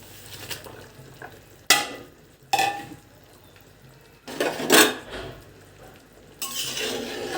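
Pieces of fried eggplant drop into a pan where eggs are cooking, bringing bursts of sizzling and scraping stirs that rise and fall at intervals over a quieter background frying hiss.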